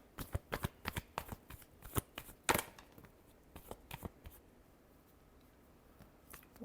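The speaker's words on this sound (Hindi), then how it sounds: "Last shuffle." Tarot cards being shuffled by hand, a quick run of crisp riffling snaps and slaps, close and fairly quiet, bunched in the first half before trailing off into a few scattered taps.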